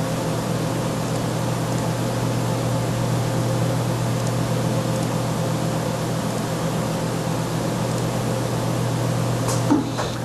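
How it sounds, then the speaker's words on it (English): A Vutek wide-format printer runs at high speed while printing a colorful banner, giving a loud, steady mechanical hum and whir with no breaks, and a brief clack near the end. "we're going to print a more colorful banner"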